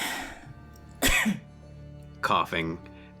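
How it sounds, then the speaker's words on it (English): Two harsh coughs from someone coughing up a little blood, close and loud, the second a quick double burst, separated by a quiet pause over a faint background hum. "Still coughing, a little blood."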